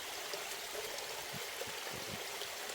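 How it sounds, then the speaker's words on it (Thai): A waterfall flowing, a steady broadband rush of falling water that stays even and continuous, with a few faint low thumps near the middle. "น้ำตก"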